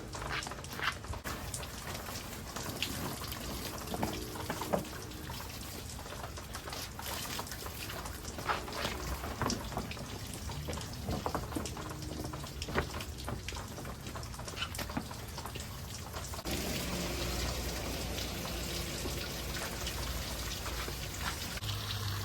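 Water pours steadily to fill a pool that was found in the trash, making a continuous splashing, trickling wash close by, with rain-like patter and no talk.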